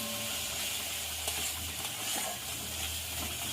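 Prawns sautéing with spices in a hot pan give off a steady, soft sizzle and hiss, continuous and close, with faint clicks and no talking.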